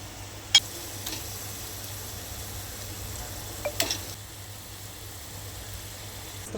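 Vam eel fish frying in hot oil, a steady soft sizzle throughout, broken by a few sharp ticks and pops from the pan.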